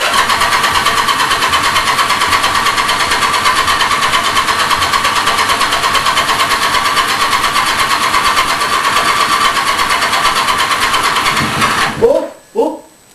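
An engine cranking steadily for about twelve seconds without catching, a loud, even mechanical churn that suddenly stops, followed by a few brief clunks.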